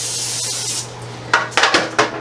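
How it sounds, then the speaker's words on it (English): Cooking spray hisses onto a baking sheet in a short burst, followed by a few quick clatters of the metal pan being handled nearby. "I'm going to go ahead and prepare my baking sheet with just a little bit of cooking spray"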